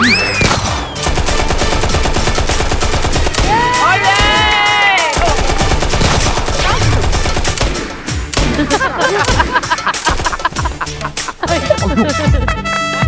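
Rapid, continuous bursts of gunfire, loud and close, layered with music-like tones and occasional shouting voices.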